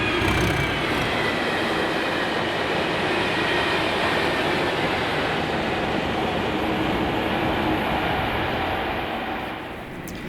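A train led by Class 37 diesel locomotive 37219 rumbles steadily past at close range near Irvine Station, Scotland, a continuous heavy roar of wheels and engine that eases slightly toward the end.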